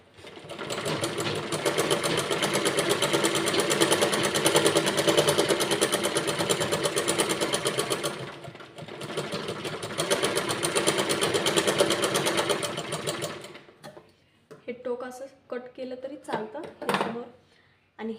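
A sewing machine stitches a blouse seam with a half-inch margin on a four-tuck blouse, running loud and steady for long stretches with one short pause, then stopping as someone speaks.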